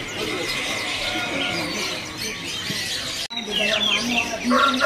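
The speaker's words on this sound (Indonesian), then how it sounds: "di kios ini ready ya baru murai air. Murai air mancur ini." A White-rumped Shama's song rings out among many caged birds at a bird kiosk, with busy chirps and calls throughout and people talking nearby.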